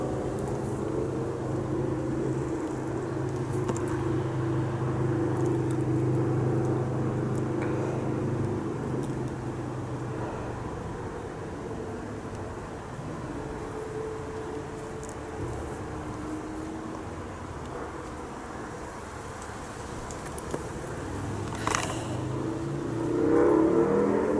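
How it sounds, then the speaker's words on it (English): A motorcycle engine runs steadily at low rpm, a continuous idling rumble that holds fairly close and loud throughout, with a slight swell near the end and no talking over it. "Sound of that bike is magnificent."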